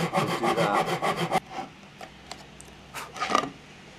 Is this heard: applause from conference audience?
no